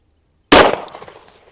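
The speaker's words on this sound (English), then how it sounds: "Do one more because I really enjoy shooting this gun." One handgun shot is fired into ballistic gel, a sudden loud crack close by that trails off in a reverberant decay, with no voices over it.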